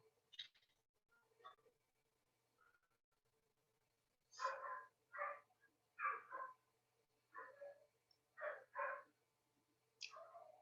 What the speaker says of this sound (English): Dog going mad in the background